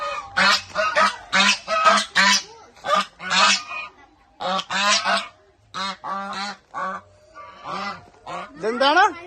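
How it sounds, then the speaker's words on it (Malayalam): Domestic ducks at an agricultural theme park, a run of loud, close, repeated honking quacks in quick bursts with short pauses between them. "ഇതേണ്ടാ ഇവിടെ നമ്മുടെ ഡക്കുണ്ടറാ, താറാവ്"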